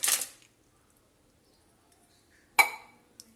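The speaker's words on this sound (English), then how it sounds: "Now add some ice cubes." Ice cubes clink into a metal vessel while mango lassi is being made: a sharp, bright clatter at the start, a second crisp clink a couple of seconds later, and one small tick after it, with quiet between them.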